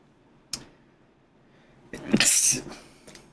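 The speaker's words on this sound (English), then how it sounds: "Excuse me, I sneezed, alright." One person sneezes loudly and close by, a sharp burst that follows a brief click in an otherwise quiet room.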